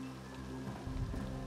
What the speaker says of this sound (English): It rained in this game.